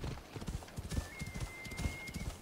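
Steady clip-clop of a horse galloping in Assassin's Creed: Odyssey, hooves in a quick rhythm, moderately loud, with a thin high tone running through part of it and no talking.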